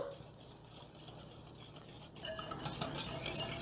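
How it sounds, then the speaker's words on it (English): Muffin batter with vanilla extract being mixed in a bowl, soft scraping and tapping of a utensil that turns into brisker clinking strokes partway through, no talk. "now I'm just gonna give this a good mix"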